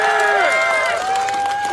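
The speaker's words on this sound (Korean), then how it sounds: "힘찬 박수와 응원의 함성 부탁드립니다." A crowd at a political rally in Ulsan's Suam Market applauds and cheers, a broad roar of claps and voices with one sustained raised voice calling out clearly above the noise.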